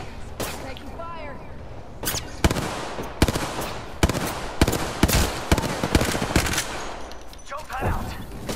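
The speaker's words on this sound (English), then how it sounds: "Taking fire." Rapid bursts of gunfire from the game Apex Legends, sharp repeated shots crackling in clusters at close range with steady game ambience and some talk mixed in.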